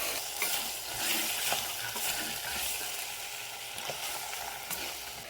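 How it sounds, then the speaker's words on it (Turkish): Peas are stirred into potatoes frying in a pan, a steady close sizzle with scraping spoon strokes and light clinks, with no talk. "Şimdi bezelyeler ekleyelim. Karıştıralım."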